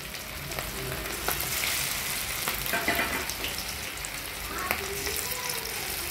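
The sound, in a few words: chicken pieces frying in hot oil in a pan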